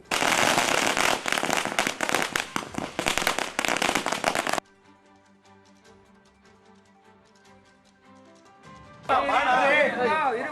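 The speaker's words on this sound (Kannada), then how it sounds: "ಅಧ್ಯಕ್ಷರ ಬೆಂಬಲಿಗರು ಹಾಗೂ ಮೂಲ ಕಾಂಗ್ರೆಸ್ ಕಾರ್ಯಕರ್ತರು ಪಟಾಕಿ ಸಿಡಿಸಿ ಸಂಭ್ರಮಿಸಿದ್ರು" Firecrackers set off by party workers celebrating a village panchayat president's election pop in a dense, loud, rapid burst of crackling, followed by quiet music and then a voice speaking.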